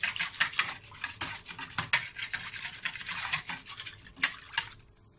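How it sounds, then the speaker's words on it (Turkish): A spoon stirs broad beans in a pot while cooking Turkish olive-oil broad beans, a steady run of close scraping and clinking strokes with no talk. "Şöyle onu bir karıştıralım."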